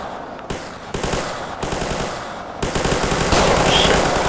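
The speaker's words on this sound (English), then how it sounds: "look like they're shooting down there" Rapid bursts of gunfire in the video game GTA IV with the LCPDFR police mod, a dense, loud crackle of automatic and shotgun shots close by, continuing without pause over the whole stretch.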